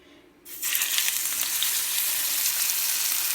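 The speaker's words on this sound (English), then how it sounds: "I'm putting it in the pan, seasoning side down. And my pan is already heating." Pork chops dropped seasoning side down into a preheated pan break into a sudden loud, steady sizzle that holds evenly after a quiet start.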